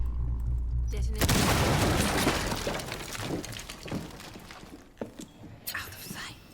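Breaching charge detonating in Rainbow Six, a sudden loud blast with shattering debris that trails off into scattered crashes and clatter, with faint voices in the mix.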